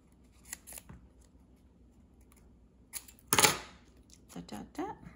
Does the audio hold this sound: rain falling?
no